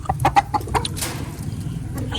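Chickens clucking close by in a coop, several short clucks in quick succession near the start, then a steady low hum of background noise with softer bird sounds.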